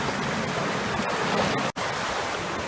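River rapids rush over rocks in a steady, close-up roar of churning water, dipping out briefly for an instant before the flow resumes.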